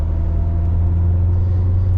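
A 2017 Chevrolet Corvette Z06 with a manual gearbox cruises along, its engine a steady, loud low rumble with a continuous drone throughout and no talking.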